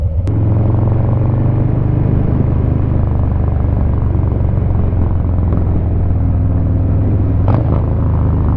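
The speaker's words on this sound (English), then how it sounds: "So there's engine braking." A motorcycle engine drones with a low, steady rumble and shifting pitch as it slows under engine braking without brakes, loud and close with constant wind noise.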